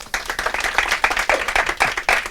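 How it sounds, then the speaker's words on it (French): A studio audience applauds a guest being welcomed onto a French talk show, with steady, dense clapping that holds at an even level throughout. "qu'on peut applaudir s'il vous plaît"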